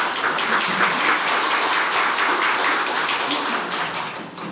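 Steady, sustained applause from an audience at a forum on developing a platform for small business owners, dense clapping filling the room at an even level before easing slightly at the end.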